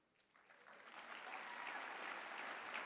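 Audience applause at a lecture on the history of slavery, rising from quiet to a full, sustained clapping that stays steady to the end, fairly distant and soft in level.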